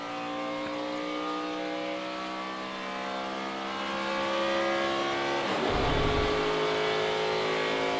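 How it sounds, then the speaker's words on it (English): NASCAR stock car engines roar around the Daytona speedway during Sprint Cup practice, a steady high-pitched drone of several cars that swells louder as one passes close by near the end, with no talk. "listen to these engines. As you go around this racetrack, the pitch hardly ever changes."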